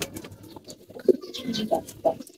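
Racing pigeons cooing close by, several low, throaty coos repeating in a loose rhythm over a light background murmur.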